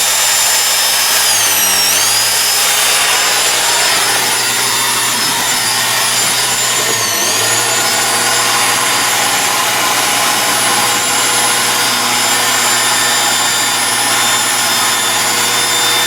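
New turbo engine running in a Suburban, a loud sustained high-pitched turbo whine over a steady engine roar, close up, with two brief dips in pitch as the revs change.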